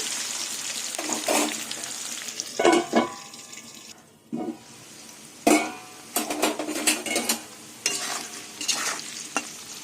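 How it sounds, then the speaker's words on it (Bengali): Salted potatoes fry in a covered pan over low gas, giving a close, hissing sizzle in uneven bursts with intermittent stirring and scraping and brief quieter gaps. No voices are heard. "নুন দিয়ে আলুটা ঢেকে ঢেকে ভেজে নেবো"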